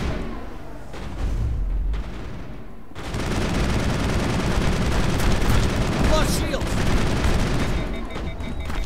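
Loud, dense gunfire from a Mass Effect firefight, sustained bursts and booming impacts filling the whole stretch, with a brief quieter lull near the start before the shooting surges again.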